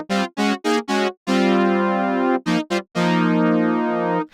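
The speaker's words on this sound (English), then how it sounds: "A little bit of a chorusy horn section." Synth brass patch built from two detuned oscillators, giving a chorus-like horn section: a few short stabs, then long sustained bright chords, loud and clean with no voices.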